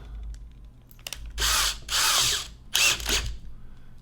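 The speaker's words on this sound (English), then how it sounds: "then I take my drill" A power drill whirs in three short bursts, each about half a second long, with brief pauses between them, close and fairly loud.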